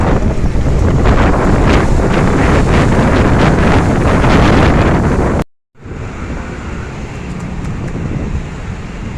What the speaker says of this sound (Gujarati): ઓહો, પવન છે તો કેવો હે.